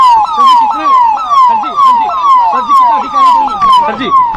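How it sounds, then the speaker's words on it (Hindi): UP Police vehicle sirens blare in a convoy leaving Sabarmati in Gujarat, a loud, close, rapidly repeating wail that sweeps down and up in pitch roughly every half second, with engine rumble underneath. "सायरन बजाती हुई ये गाड़ियों को अब आप यहाँ पर देख रखे हैं"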